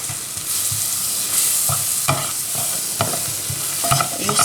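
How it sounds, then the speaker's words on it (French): A whisk scraping and stirring a béchamel roux of butter and flour over medium heat, with steady rhythmic strokes against the pan and a soft sizzle underneath. "à l'aide d'un fouet, je vais mélanger les deux ensemble sur feu moyen. Je ne cesse pas de remuer"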